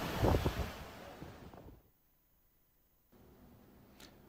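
Wind buffets the microphone on the Şile coast, with a loud roar of sea waves at first that fades to quiet, followed by a steady low wind hiss.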